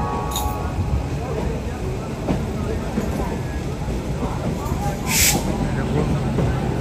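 Crowded Howrah railway station in India, a steady wash of platform noise with rumbling trains and occasional metallic clinks, people talking throughout.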